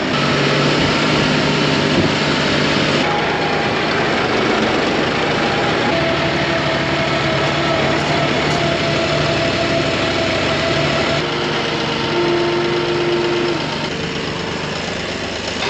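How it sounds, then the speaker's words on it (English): A steady tractor engine idles nearby for the full stretch, a continuous low rumble and vibration with faint tonal hums drifting over it. "I just decided to grab Joel's tractor"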